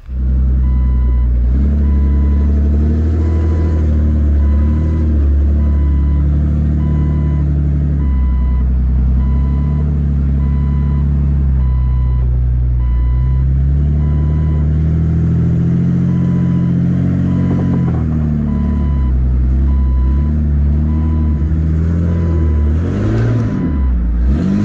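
Jeep on a rocky off-road trail in Moab with its brake warning beeping on and on, a steady evenly repeating tone over a loud engine drone that rises and falls as the vehicle crawls along.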